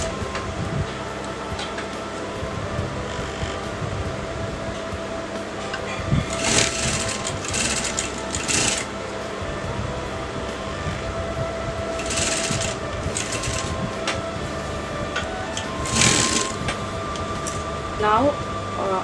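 A sewing machine runs a steady top stitch along a garment seam, a continuous whirring hum with a few short louder bursts, and a voice can be heard over it at times.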